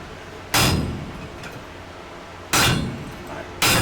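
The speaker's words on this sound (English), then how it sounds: "Go ahead and hammer straight down." Three loud, separate hammer blows land on hot wrought iron during forging of a sledge hammer head, each a sharp ringing strike with long gaps between.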